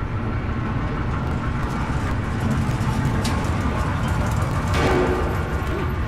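A continuous low, heavy rumble like a train rolling along in the video game Amnesia: A Machine for Pigs, steady and fairly loud, with faint rattles and a brief rising hiss near the end.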